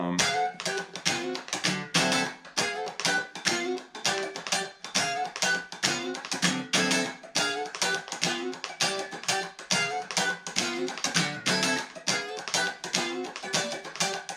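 Bright, choppy electric guitar playing rhythmic chord stabs with quick slides and percussive strums, steady and busy throughout.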